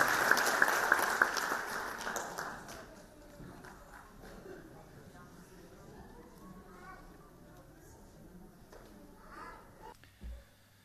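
Audience applause at a gathering of martyrs' families, loud for the first two seconds and then trailing off into faint scattered claps, with talk and room noise continuing afterward.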